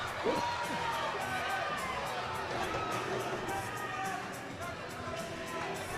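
An indoor arena crowd at a MASL soccer match between Ontario Fury and Florida Tropics makes a continuous roar with scattered shouts and whoops, with a commentator's voice faintly mixed in.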